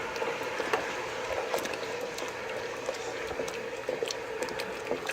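Turkey noodle soup in a pot bubbles and simmers steadily at moderate volume while a spoon stirs it, with small liquid slurps and light clicks scattered across the few seconds.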